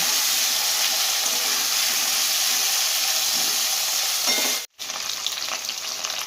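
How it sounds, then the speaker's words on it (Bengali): Cauliflower and potato pieces fry in a pan with a loud, dense, close sizzle that runs throughout, cutting out for a moment before the frying noise returns. "কপি আলুটা লাল করে একটু ভেজে নেব"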